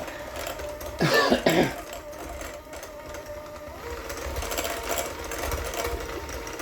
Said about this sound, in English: let's mix this butter up real good first. I always choose the bowl that makes noise.